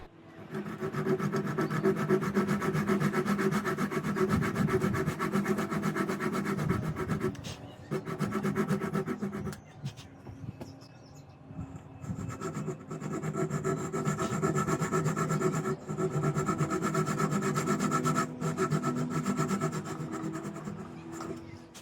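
A marking knife scores lines across a wooden workpiece guided by a square, producing repeated raspy scraping strokes at close range with a few brief pauses, no voices heard.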